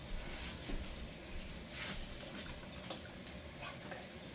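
Water pouring from a cup into a pot for cooking creamy spinach pasta, a steady close splashing trickle running throughout with faint background noise and no talk.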